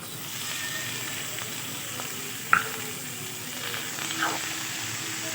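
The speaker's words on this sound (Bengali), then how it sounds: "মশলা দিয়ে ভেজে নিয়েছি এবার আমি মোচাগুলো দিয়ে দেবো" Chopped banana flower frying in oil with spices and green chilli, heard as a steady hiss and sizzle with a few faint utensil taps and one sharp clink, no talking.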